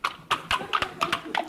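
Horse hooves clip-clopping in a steady, even rhythm, five or six crisp close strikes on a hard surface, from a miniature horse pulling a wheelchair in a comedy sketch.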